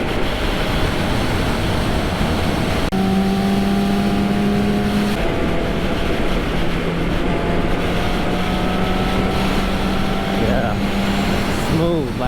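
An Aprilia Tuono 1000R motorcycle rides on a cracked road with a steady engine drone, pitch shifting as it changes gear, wind roaring over it while a rider talks.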